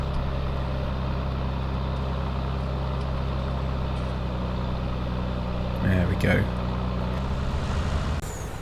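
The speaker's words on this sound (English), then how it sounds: "You can't really miss the great big yellow lorry." A large yellow lorry in Farming Simulator 19 drives up with a steady, loud diesel engine drone and brief air-brake hiss near the end, while someone speaks briefly over it.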